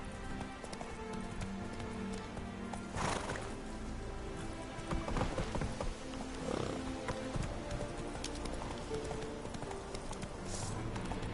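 Hoofbeats of Roach, a horse in The Witcher 3, galloping in a steady clip-clop rhythm over a continuous rain-like backdrop, with a faint whinny and no talk.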